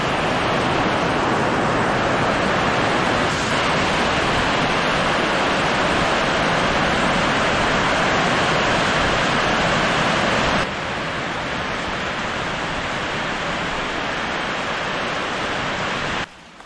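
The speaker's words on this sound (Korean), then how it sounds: "소나기인 것 같은데" A heavy rain shower pours down steadily in Chiang Rai, Thailand, a dense, loud, continuous hiss that eases slightly near the end, with no talking.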